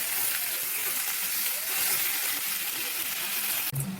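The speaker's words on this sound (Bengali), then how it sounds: "এবার মাংসটাকে আমি কড়ার মধ্যে দিয়ে তেলের উপর আমি ভেজে নেবো মাংসটাকে।" Duck meat frying in hot oil in a kadai wok, a loud, continuous hiss and sizzle close up, steady throughout with a brief clatter near the end.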